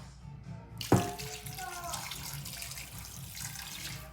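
Water gushes suddenly into a container of spider-flower greens being covered for pickling, then settles into a steady, moderately loud pouring wash with faint voices in the background.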